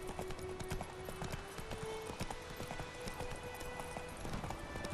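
Geralt's horse Roach gallops in The Witcher 3 video game, with rapid, continuous clip-clopping hoofbeats running steadily at close range throughout.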